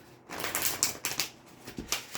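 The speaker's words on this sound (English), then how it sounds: "We're going to give this deck one more shuffle" A tarot card deck is shuffled by hand in quick bursts of crisp, papery riffling and clicking. The sound is close and fairly soft, and there is no talking.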